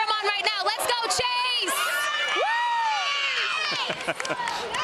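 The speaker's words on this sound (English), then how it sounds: "Let's cheer him on right now." Spectators at a Little League Baseball World Series game cheering the pitcher, a loud, continuous roar of shouts, whoops and high children's voices with scattered claps throughout.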